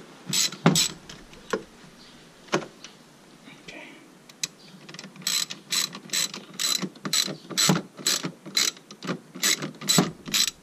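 A ratchet working a fitting loose during a fuel tank and pump install on a Nissan 240SX, with scattered clicks early and then a long run of rapid, loud ratcheting bursts close by, plus a brief voice.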